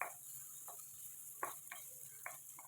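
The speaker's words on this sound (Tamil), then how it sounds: "1 நிமிஷம் அளவுக்கு வெங்காயம் வதங்கினா போதும், ரொம்ப வதங்கணும்னு அவசியம் இல்லை" Sliced onion sautés in oil in a kadai, giving a faint, steady sizzling hiss with a few soft scraping stirs of a spoon against the pan, heard alone and quiet.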